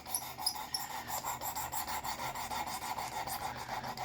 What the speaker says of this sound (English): this machine makes it so I can sharpen my own knives